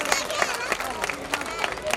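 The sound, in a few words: audience applause at Ramleela performance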